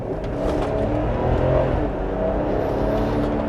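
Ineos Grenadier 4x4, a detuned engine of around 280 horsepower in a nearly 3-ton vehicle, accelerating hard with a loud, steady rising engine roar heard from inside the cabin.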